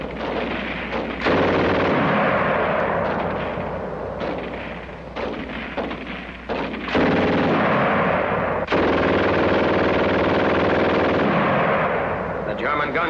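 German automatic machine gun firing rapidly in long, loud sustained bursts with short pauses between them, the rattle echoing throughout.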